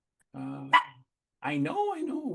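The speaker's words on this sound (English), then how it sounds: "my big dog, as you guys can hear him outside, is absolutely losing his mind right now." A big dog barks outside, several deep, harmonic barks split into two bursts, while a person talks nearby indoors.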